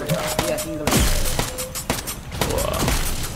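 A turret firing in a tower-defense-style video game, single-target shots landing as a series of sharp thuds and bursts with a tonal whine, over a busy game soundtrack.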